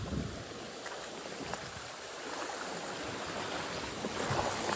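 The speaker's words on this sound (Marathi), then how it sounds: "हे बघा मिनी वॉटरफॉल." Water rushes steadily in a broad, continuous hiss from a small waterfall nearby, with faint wind and scattered splashes but no voices.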